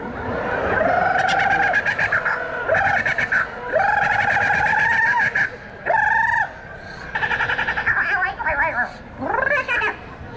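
At a Renaissance fair, a group of people imitate the Tarzan yell together. Their loud, warbling, yodel-like vocal calls rise and break in repeated bursts with short pauses between them, close to the listener.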